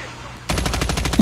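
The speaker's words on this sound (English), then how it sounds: "Somebody's shooting at you from up there." Rapid automatic gunfire from a Call of Duty match on a big map bursts in suddenly, a fast stream of loud, sharp shots that continues to the end.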